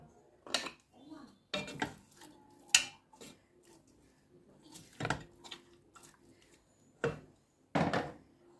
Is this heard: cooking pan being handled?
yes